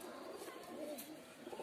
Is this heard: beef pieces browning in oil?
no